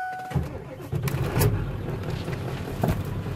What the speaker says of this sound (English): That's just normal engine running.